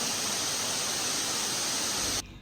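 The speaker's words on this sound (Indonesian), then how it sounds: "ini kelihatan udah air terjunnya" A waterfall in Aceh Singkil cascades in a steady, dense rush of white water, loud and unbroken, then cuts off abruptly near the end.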